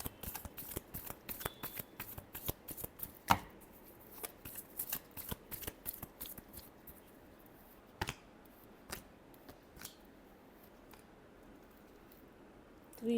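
Tarot cards being shuffled in a last pass before a reading: a run of crisp, quick riffling clicks and flicks, dense at first and thinning out later, close and fairly quiet with no voices.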